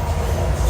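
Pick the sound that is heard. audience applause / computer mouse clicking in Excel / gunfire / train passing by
train passing by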